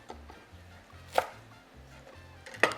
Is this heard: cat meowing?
no